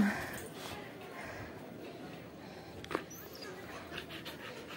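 A dog pants quickly and steadily close by, a soft rhythmic breathing sound with a faint whimper partway through.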